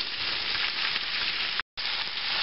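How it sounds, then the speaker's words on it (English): Cabbage and Spam frying in a pan, a steady loud sizzle that runs on with one brief cut, no voices. "I'm going to fry this down a little bit"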